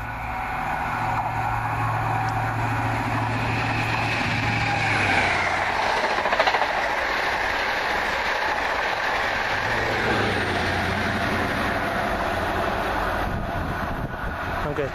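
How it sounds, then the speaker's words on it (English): Passenger train on the Paignton to London Paddington service passing near Saunderton, a steady broad rumble and rush that builds through the middle and holds throughout, loud and close with no talking. "Next moment around that corner should come 1A19 from Paignton through to London Paddington."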